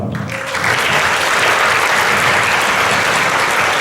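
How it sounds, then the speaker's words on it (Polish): At a local talent contest's results announcement in Mielec, Poland, a hall audience gives dense, steady applause that swells in the first half-second and then holds loud and even throughout. "dla nich wszystkich gorące brawa"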